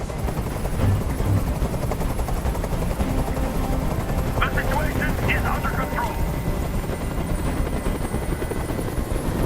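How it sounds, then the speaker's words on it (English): A helicopter's steady rotor drone, from the video game Detroit: Become Human, fills the scene, loud and close, with a voice speaking over it. "Tell that helicopter to get out of here."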